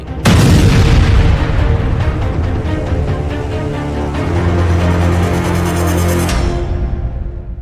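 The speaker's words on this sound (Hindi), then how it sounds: "रूस के क्रास्नोडार हथियार डिपो में हुआ धमाका" Loud, sustained booming rumble from an ammunition depot explosion in Krasnodar, Russia, a continuous heavy roar with deep low-end weight lasting several seconds before cutting off abruptly near the end.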